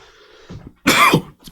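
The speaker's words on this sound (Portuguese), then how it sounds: "Desculpe aqui a tosse." A single harsh, loud cough bursts out close to the microphone during a podcast conversation with a boxer, preceded by a few softer throat and breath sounds.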